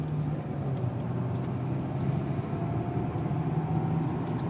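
Renault 2.0 litre turbo diesel car driving slowly on a wet Nürburgring track, a steady low engine drone with road and rain noise, heard from inside the car.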